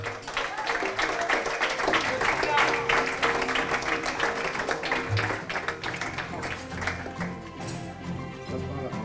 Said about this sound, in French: que vous pouvez applaudir